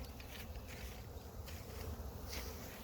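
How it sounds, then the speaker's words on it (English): Honey bees fly in and out of outdoor hives, making a faint, continuous buzzing hum with individual bees droning louder as they pass close, and no talking. "And down here we have the bees coming,"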